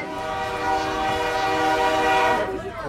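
The Nairobi Standard Gauge Railway train sounds a long, loud, sustained horn as it departs the station, with the rumble of the train underneath.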